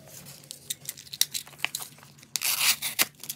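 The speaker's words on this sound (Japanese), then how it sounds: "早速書いたりしたトレカを開封します。" Trading card packaging is torn open by hand at close range, a run of crisp rips and crinkles that builds to a louder, longer tear near the end, with no talking.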